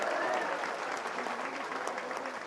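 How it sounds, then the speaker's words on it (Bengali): A crowd at a political rally applauds, dense sustained clapping from many hands, loud and steady for the whole stretch. "ইউনূস সাহেবকে একটা হাততালি দিয়ে ধন্যবাদ দেন।"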